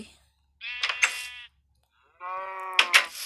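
Sheep in the video game Minecraft give two separate bleats, each a short wavering cry, with a pause of silence between them.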